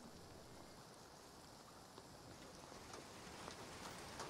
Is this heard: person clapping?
no